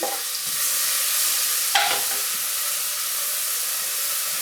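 Chopped onions sautéing with cumin in a pan for red kidney bean curry, a steady close sizzle with a brief stirring scrape partway through and no talking.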